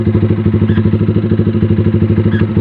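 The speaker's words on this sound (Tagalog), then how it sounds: "Marami dumadaan dito ng motor din, sir?" A motorcycle on a rural road near a waterfall and spring in Laurel, Batangas, its engine running close and loud with a steady, rapid pulsing throb throughout.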